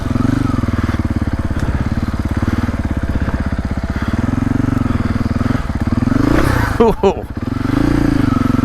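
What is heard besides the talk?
Husqvarna FE450 motorcycle engine riding over slick rocks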